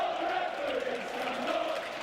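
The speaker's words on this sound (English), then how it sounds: "The crowd not happy at all. You'll hear stand up for the referee." Football crowd at Burnley versus Watford in a 2004 First Division match, chanting in protest at the referee; a distant, sustained mass of voices rolling steadily through the stadium with no clear breaks.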